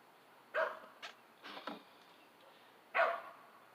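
A neighbor's dog barks outdoors, a few sharp barks in quick succession and then one more after a short pause, heard at moderate distance with no talking.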